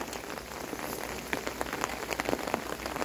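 Pouring rain falls outside a house, a dense, close patter of drops hitting surfaces that runs steadily throughout with no talk.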